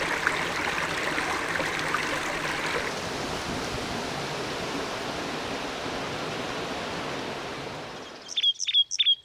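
Water rushing steadily in a stream, a dense continuous wash that holds loud and even, then cuts away near the end to quiet with a few brief, faint chirps.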